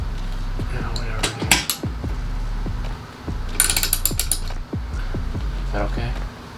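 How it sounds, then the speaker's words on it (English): A wrench ratchets bolts into a tilting TV wall mount, giving a series of quick clicking ratchet bursts with light metallic clatter in a room, close and fairly loud, with brief talk nearby. "Better off getting a fucking wrench and just wrenching that shit in"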